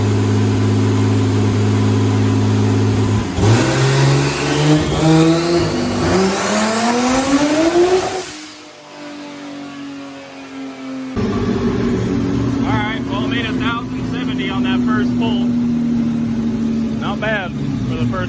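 A turbocharged drag car runs on nitrous against the trans brake, the engine revving loud and rising steeply, then dropping away before roaring again under a steady high drone. Someone talks over part of it.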